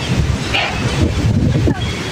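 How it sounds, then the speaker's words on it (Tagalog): Heavy rain pours outdoors near campus buildings, a loud, dense, steady wash of rumbling noise, buffeted by wind and close to the microphone, with no talk. "lumalakas yung ulan"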